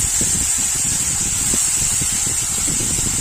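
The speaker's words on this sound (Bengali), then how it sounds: "তেল খুব ভালো গরম হয়ে গেছে, একে একে মাছ দিয়ে হালকাভাবে ভেজে নিতে হবে।" Lote fish (Bombay duck) frying in very hot oil in a wok, giving a steady, dense hiss and sizzle that runs evenly throughout with a soft crackling low rumble underneath.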